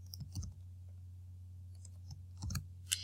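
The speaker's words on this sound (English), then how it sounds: "In the first line, type in a keyword or phrase." Typing on a computer keyboard while entering a search phrase: a few scattered, quiet key clicks in short bursts over a steady low hum, close and faint, without speech.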